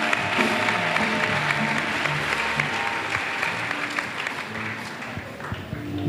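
An audience at a church missionary send-off service breaks into sustained hand clapping, a loud steady wash of applause with a voice speaking over it.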